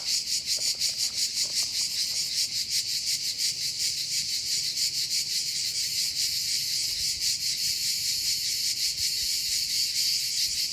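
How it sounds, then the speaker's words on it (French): Cicadas on the Côte d'Azur buzz in a dense, loud, continuous chorus, a shrill pulsing drone with a fast regular rhythm that never lets up, with no voices. "les cigales s'en donnent à cœur joie"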